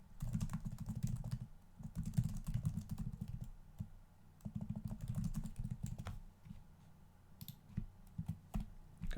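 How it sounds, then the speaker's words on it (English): Computer keyboard typing in bursts of rapid clicking keystrokes, close and fairly quiet, with short pauses between runs and no talking. "typing on stream is very stressful"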